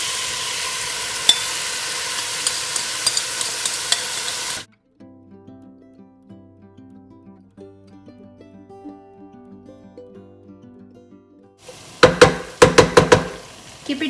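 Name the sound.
marinated shrimps sizzling and stirred in a pan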